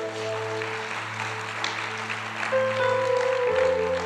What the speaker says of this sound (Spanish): Sale un fuerte aplauso a Dios.